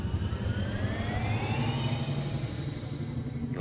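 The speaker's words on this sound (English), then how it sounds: "Oh, I do like the sound of those engines." Spaceship engines in a racing video game, a steady whirring roar with several rising, sweeping tones like a jet spooling up, moderately loud and continuous, with no talk over it.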